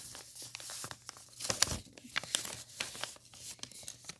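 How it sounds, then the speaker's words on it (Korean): Paper being folded into a paper airplane, heard as close, repeated crinkles and sharp creasing rustles in irregular bursts, with no talk. "뒤집어서 삼각형을 접어주세요. 반대쪽도 똑같이 접어주세요."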